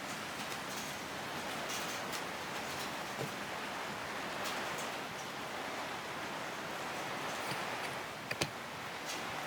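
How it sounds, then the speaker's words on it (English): Rain falls outside in a steady, soft hiss with scattered faint ticks of drops on a surface, quiet and even throughout, with no voices. "look at the rain falling"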